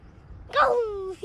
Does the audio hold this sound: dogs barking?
yes